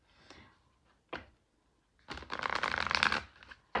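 Tarot cards being shuffled up close: a short riffle burst early, a brief flick near the one-second mark, then a loud, sustained shuffle of dense papery flutter for over a second, with no talking.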